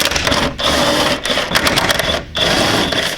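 A power tool whirs in sustained, loud bursts with short pauses while taking the 14mm nuts off the top of the rear strut on a widebody FRS, close up with no voices.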